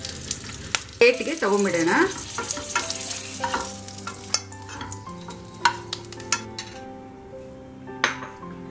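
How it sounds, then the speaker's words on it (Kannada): Green chillies, cashews and curry leaves sizzle in ghee in a pan, with steady frying hiss, spoon stirring and metal clinks against the pan throughout, and a brief voice speaking near the start. "ಹಸಿಮೆಣಸಿನ್ಕಾಯಿ, ಗೋಡಂಬಿ ಹಾಗೂ ಕರಿಬೇವನ್ನು ಫ್ರೈ ಮಾಡಿಕೊಂಡು ತೊಗೊಂಬಿಡೋಣ."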